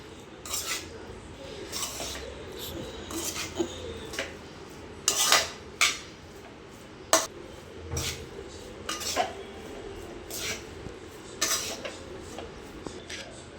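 Rice being added and stirred into an onion mix in a pan, with scattered light metallic clinks and scrapes of a spoon against the pan, fairly quiet and irregular.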